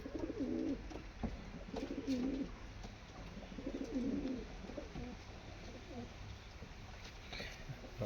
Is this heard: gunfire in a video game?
no